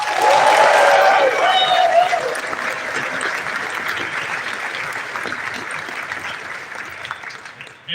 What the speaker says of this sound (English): Please give a round of applause for Blind Coyote.